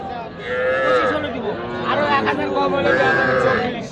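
Heifers moo loudly and repeatedly at a cattle market, long drawn-out lowing calls close by, with people chattering in the background.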